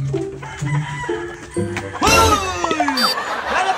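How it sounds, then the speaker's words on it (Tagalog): A rooster crows loudly up close amid clucking chickens, with the crow rising and trailing off over barnyard chatter. "Saba man yung mga manok."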